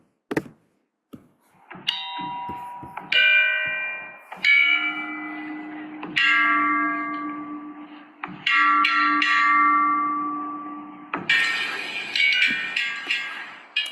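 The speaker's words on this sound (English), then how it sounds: "Our little bell ensemble at the end." A recorded bell ensemble from a heritage app, playing ecclesiastical bells: a few clicks, then successive ringing bell strikes, resonant tones overlapping and decaying, ending in a brighter cluster of bells, with no talk.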